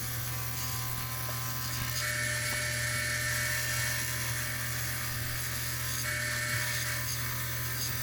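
A woodturning lathe spins a flame maple bowl while a turning tool shapes its bottom, producing a steady, close whirring hum with a thin whine and scraping cuts layered on top, without any talking.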